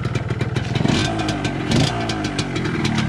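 A Yamaha RXZ two-stroke motorcycle engine with a catalyzer exhaust runs close by, revving with a rough, clattering pulse that rises and falls over a steady idle.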